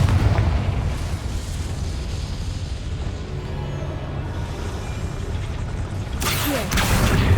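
Explosive spell blasts from Bombarda and Confringo in Hogwarts Legacy thunder as continuous booming rumble with heavy low end, a sharper burst near the end.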